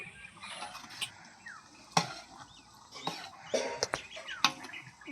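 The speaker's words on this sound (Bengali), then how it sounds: "এবারে ভালো করে নাড়াচাড়া করবো ছোটো খুন্তি তো তাই অসুবিধা হচ্ছে একটু নাড়াচাড়া করতে" Small metal spatula scraping and stirring khichuri in a cooking pot, giving irregular clinks and scrapes, a few sharper knocks against the pot's side, close by with no talk.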